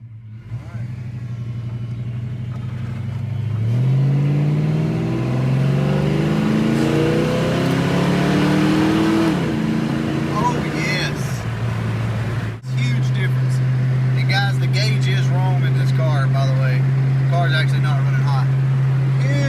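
A car engine idles, then revs and accelerates through rising gear sweeps before settling back to a steady idle drone; loud and close, with an engine fitted with new spark plugs.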